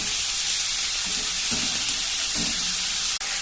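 A spice masala paste fries loudly in a pan for a katla fish and potato curry, giving a dense hissing sizzle with occasional stirring scrapes, close up and continuous.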